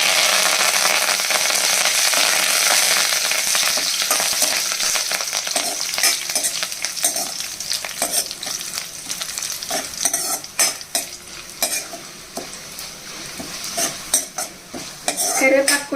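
Dried red chillies, cumin and curry leaves frying in oil in a pan for ponnaganti leaf dal, a loud dense sizzle that gradually settles, then repeated metal spoon scrapes and clinks against the pan, close up.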